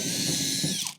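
A power drill drives a screw into a wooden skateboard kicker ramp in one short, close, whirring burst that winds down and stops at the end.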